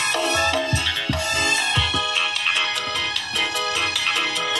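A melodic mobile phone ringtone plays into a microphone hooked up to an audio compressor, with a bright repeating tune and rhythmic low pulses, loud and clear without talk.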